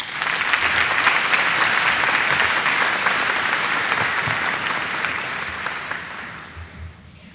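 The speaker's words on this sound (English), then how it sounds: "So if we could give her a round of applause" A large audience at a high school graduation ceremony gives a sustained round of applause, dense clapping near and loud that gradually thins and fades toward the end.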